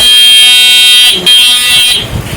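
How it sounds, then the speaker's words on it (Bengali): Electric bicycle horn, mounted at the rear of a battery-powered cycle being assembled, sounds as a loud, steady electronic buzzing tone held for about two seconds with a short break, then fades into workshop noise. "পেছনে হর্নটা"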